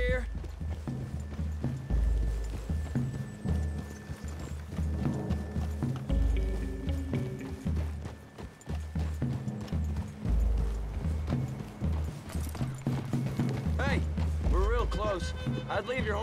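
Horses' hooves clip-clopping at a walk through trees in the video game Red Dead Redemption 2, steady and fairly close, mixed with creaks, an occasional whinny and characters talking over them.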